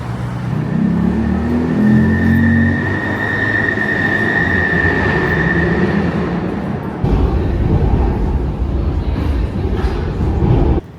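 A Budapest subway train, Europe's oldest metro line, rumbles loudly along the tracks, with a steady metallic whine, rattling wheels and clatter that grows heavier partway through.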